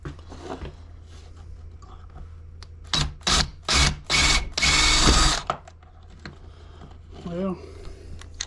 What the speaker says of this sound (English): I just do some beveling on it, or some countersink, however you want to phrase that.